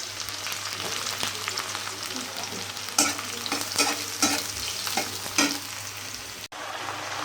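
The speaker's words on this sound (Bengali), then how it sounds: "আরেক চুলায় যে পেঁয়াজ দিয়ে দিব" Onions fry in a pan on a stovetop burner with a steady, loud sizzle, broken by several sharp clicks and scrapes of a utensil stirring, with no talking.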